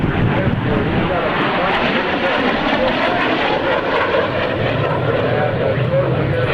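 A propeller airplane flies a display at the 2001 NAES Lakehurst airshow, producing a steady, loud, continuous engine roar with a voice faintly underneath.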